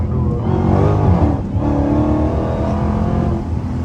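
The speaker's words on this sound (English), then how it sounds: "these tires are so weak. This thing is spinning all the way up to 70." A Dodge Hellcat accelerates hard on weak tires, engine roaring loud and sustained from inside the car as the wheels spin, pitch climbing through a gear change.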